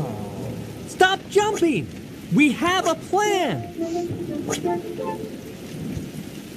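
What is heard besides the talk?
rain and thunderstorm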